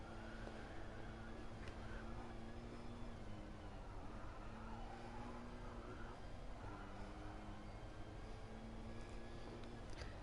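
Mercedes race car on an onboard lap at the Nürburgring 24h in a racing video game, its engine a steady, loud continuous drone with sustained harmonic tones and shifting pitch throughout, no talk.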